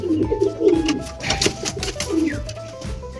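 Several pigeons, male and female breeding birds, cooing close by in soft, repeated throaty bursts that overlap and rise and fall over a few seconds.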